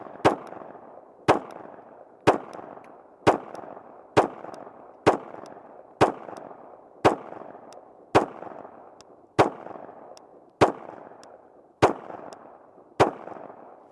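Brugger and Thomet TP9 machine pistol fired in slow, evenly spaced single shots, about fourteen sharp loud reports each trailed by a ringing decay, no voices.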